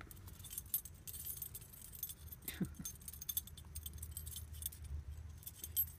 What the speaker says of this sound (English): Get the keys.